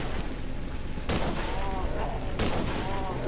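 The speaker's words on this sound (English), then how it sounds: "So those G43 shots must have hit him" G43 rifle gunshots in the video game Cry of Fear: two loud, sharp blasts spaced about a second and a half apart, each ringing over a constant dense background of game noise.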